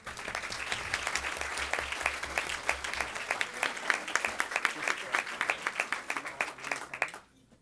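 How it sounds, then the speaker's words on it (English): A board meeting audience applauds during a school district staff service recognition, steady clapping from a sizable crowd lasting about seven seconds before stopping abruptly. "A lot of exercise here, clapping."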